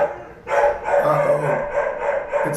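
A pet dog barking and yelping agitatedly at fireworks, a run of loud close barks and whining cries in quick succession.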